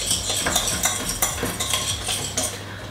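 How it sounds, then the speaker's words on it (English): Whisk clinking rapidly against a bowl while beating lemon drizzle cake batter with lemon zest, a quick busy rhythm of metallic taps and scrapes, close and alone. "then you just need to whisk that guys"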